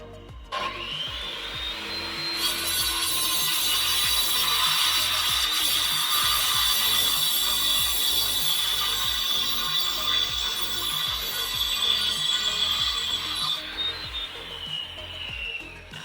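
An angle grinder fitted with a dust shroud and hooked to a vacuum cuts into a concrete foundation block: the extractor hums first, then a loud, steady grinding whine runs about eleven seconds before winding down.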